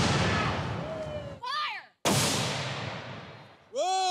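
Two booming blasts from a Civil War cannon, each a loud sudden report fading into a long rumble, separated by about two seconds, with a man's startled exclamation right after each shot.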